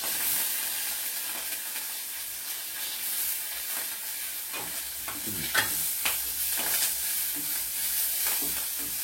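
Onion sizzles and fries in hot oil with asafoetida powder and curry leaves for a rava moong dal dhokla, steady hissing crackle with occasional stirring scrapes and louder pops toward the middle.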